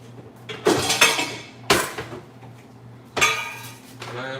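Bowls and dishes handled in a kitchen while flour is set out and seasoned for frying chops and cauliflower, giving three sharp clattering knocks spaced a second or two apart, fairly close, with a low steady hum underneath.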